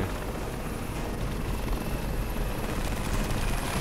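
A helicopter in the video game Crysis produces a continuous rotor drone at moderate volume, steady and unbroken, with no voices over it.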